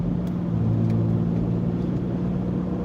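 Chevrolet Impala accelerating in city traffic, a steady low engine rumble and road noise heard from inside the car, continuous and moderately loud with no talking.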